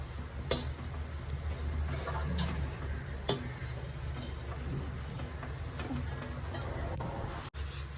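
Grated coconut roasts in a pan and is stirred, giving a soft continuous dry rustle with occasional scraping strokes and a few sharper clicks, heard fairly close without talk.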